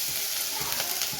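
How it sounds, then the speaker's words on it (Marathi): Curry leaves go into hot oil and sizzle loudly, a brief bright hiss with crackling spatters close to the pan. "तेल तापल्यानंतर छान असा कढीपत्ता पण घालून घेते"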